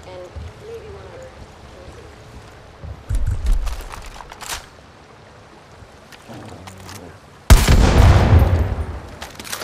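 Explosion and bursts of gunfire in the video game Far Cry 5, a loud blast near the end after scattered shots and rumbling, with someone talking over parts of it.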